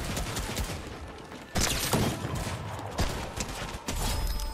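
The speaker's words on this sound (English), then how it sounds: "Of course, he has a spam shotgun." Shotgun blasts in the video game Fortnite, a run of sharp, loud close shots in an irregular burst over busy game background noise.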